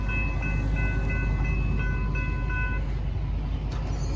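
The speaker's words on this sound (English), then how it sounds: "It's that train. It's probably moving away from Fairview." A train near Fairview in Downers Grove rumbles steadily as it moves away, with a sustained horn chord sounding in repeated blasts over the low, continuous roar before the horn stops.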